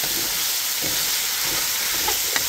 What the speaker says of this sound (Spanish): Ya agregué las papas a la salchicha y a la cebolla y los peces.